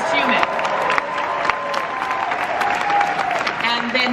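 A live audience at a San Diego Comic-Con panel breaks into sustained applause and cheering, a dense steady wash of clapping that fills the hall for several seconds at even loudness.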